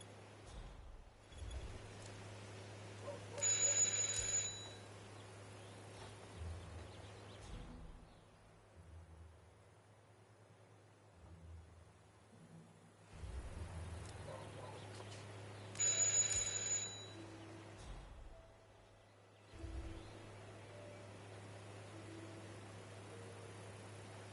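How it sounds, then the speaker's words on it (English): Doorbell in the video game Hitman 3, two brief bright chimes about twelve seconds apart, moderately loud against a quiet hum of room ambience. "just ring the doorbell"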